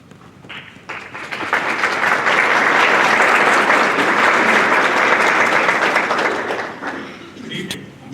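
An audience at a middle school National Junior Honor Society induction ceremony breaks into loud, sustained applause that swells, holds for several seconds, then tapers off into scattered claps.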